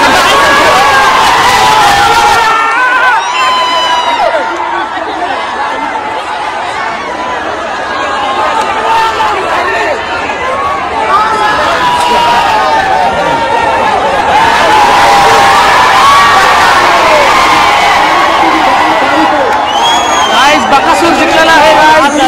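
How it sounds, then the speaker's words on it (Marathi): A large crowd roars and cheers at a village bullock cart race as the bull Bakasur wins. The shouting and excited chatter stay loud and continuous throughout, with occasional whistles rising above the din. "बकासूरचा पण जल्लोष क्रेज हा लोकांमधला उत्साह खतरनाक आहे गाईज"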